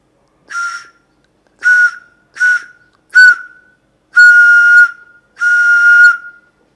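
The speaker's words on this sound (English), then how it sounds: "So that's the way you have to make sound from the flute." A beginner's flute sounded in six separate breathy notes, the first four short and the last two held longer, each a steady whistle-like tone with airy hiss, close and fairly loud with silence between.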